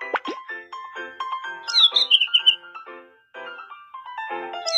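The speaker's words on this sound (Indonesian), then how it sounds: "Burung kecil." A small cartoon bird chirps in a Babybus children's video game, with a quick bright trill in the middle set among bouncy electronic game tones.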